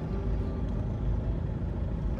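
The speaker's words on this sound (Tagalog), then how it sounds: "So medyo may konting traffic" Steady low rumble of road traffic moving slowly through a roundabout in Bicol, engines droning continuously without a break.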